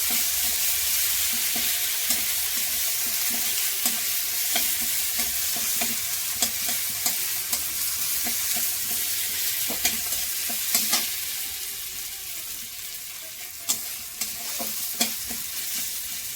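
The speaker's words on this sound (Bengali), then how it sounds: "এটাকে একটুখানি আদাটা একটু ভেজে নেব, ভেজে নিয়ে তারপরে মশলাগুলো দিতে থাকবো।" Ginger fries in hot oil with a continuous sizzle, broken by a run of light spatula taps and scrapes against the pan; the hiss eases slightly partway through.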